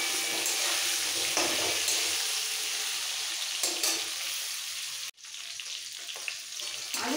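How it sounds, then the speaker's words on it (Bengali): Potatoes and pointed gourd frying lightly in oil in a pan, a steady soft sizzle with a brief stir or clatter near the end and a short drop in sound. "আলু পটল দুটোই ভাজা হয়ে গেছে"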